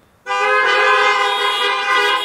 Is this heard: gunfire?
no